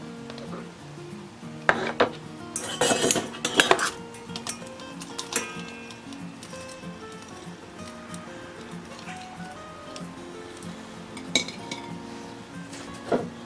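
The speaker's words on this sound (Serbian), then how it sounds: "Evo, rezance smo skuvali. Sad ćemo je izvaditi iz rešeta." In a home kitchen, boiled noodles are lifted out of a strainer with close metallic clinks and clatters of utensils against cookware, busiest early on and then sparse and quieter.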